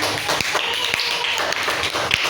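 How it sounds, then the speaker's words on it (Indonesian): Classroom students applaud a classmate, with brisk, continuous hand clapping from a group at close range that holds steady throughout and has a few sharper individual claps standing out. "beri tepuk tangan buat temennya"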